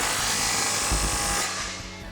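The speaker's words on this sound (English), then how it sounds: "we can go ahead and tighten this back down using our 13mm socket" A small power tool whirs steadily for about a second and a half, tightening an exhaust bubble clamp with a 13mm socket on a Jeep Gladiator JT fitted with a Flowmaster FlowFx Extreme single exhaust, then cuts off and fades.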